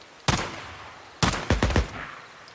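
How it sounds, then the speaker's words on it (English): Gunfire in the zombie-survival video game Days Gone: a single sharp shot, a pause, then a quick burst of several loud reports, each with a short echoing tail. "Can I shoot it from this far?"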